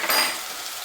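Ginger garlic paste sautés in ghee and oil, a brief close hiss of sizzling that swells briefly at the start and then settles to a softer crackle.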